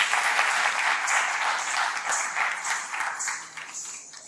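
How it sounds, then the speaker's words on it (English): Applause at an educational conference after a song performance, an even wash of clapping from a sizeable audience heard at moderate distance, holding steady before easing a little toward the close. "You full round applause for"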